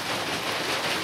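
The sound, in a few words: heavy rain pouring down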